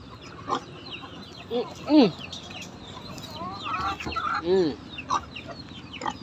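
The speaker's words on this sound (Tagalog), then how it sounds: "Mga naglilihing manok." Hens about to lay eggs cluck and squawk in short, scattered calls close by, with a few louder rising squawks over a quiet farmyard background.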